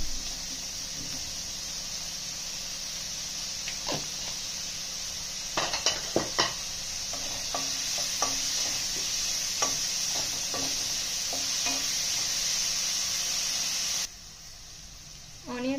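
Onions fry in a pan with a continuous hiss of hot oil, broken by scattered clinks and scrapes of a spatula against the metal, until the sizzle cuts off near the end.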